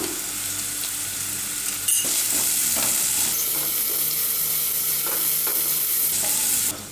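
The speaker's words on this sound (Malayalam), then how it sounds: "അപ്പോൾ സവോള നന്നായിട്ട് വഴന്ന് വന്നിട്ടുണ്ട്." Sliced onions with salt sautéing in a pan, a loud steady sizzle under repeated scraping stirs, with one sharp clatter early on.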